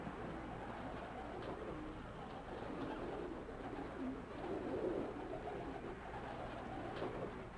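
Pigeons on Harlem rooftops coo softly and steadily against a faint outdoor city hum, distant and low in level.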